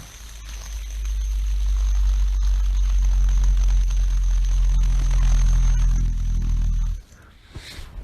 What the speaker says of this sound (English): He would wait for the fidget spinner helicopter to come flying in.